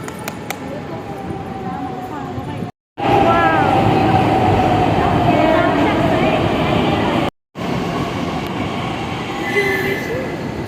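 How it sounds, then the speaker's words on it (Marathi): A metro train rumbles loudly and steadily nearby as it arrives at the station, with faint metallic wheel squeals rising over the continuous roar. "आता लवकरच ट्रेन येईल"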